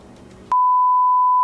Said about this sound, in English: have I gotten messages on my iPad? Sounds my phone, but on my iPad.